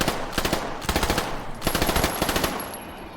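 Automatic gunfire in the video game STALKER GAMMA rattles out in several rapid bursts, loud and close, with brief gaps between volleys.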